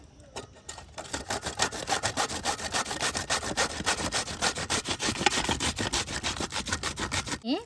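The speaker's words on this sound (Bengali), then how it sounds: "এবারে এই পেঁপেটাকে গ্রেটার দিয়ে ভালো করে গ্রেট করে নেব" Raw papaya rasps against a hand grater in quick, even back-and-forth strokes, close and loud for several seconds before stopping, with no speech.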